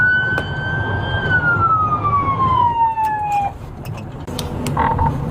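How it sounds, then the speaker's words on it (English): An emergency vehicle siren wailing in traffic, a single loud falling tone sweeping down before cutting off, over a low rumble of road noise with a faint chirp near the end. "We see this trooper pass an ambulance stuck in traffic en route to the scene."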